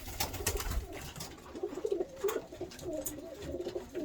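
Pigeons in a loft of fancy breeds such as Könenberg, English Nun and Bukhara, cooing in low, murmuring phrases with softer background rustle, moderately close and steady throughout, with no speech.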